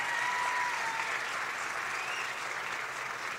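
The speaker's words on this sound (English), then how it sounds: "Give a nice round of applause, everybody." Crowd applause for the Section 1 East Little League champions at a New York State tournament welcome parade, a steady wash of many hands clapping at moderate distance, fading slightly toward the end with no talking.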